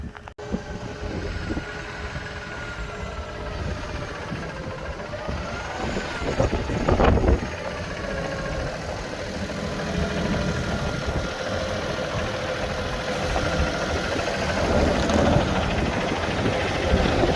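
A tractor engine idles steadily with a low rumble throughout, with some wind buffeting and a brief louder clatter partway through; no voices.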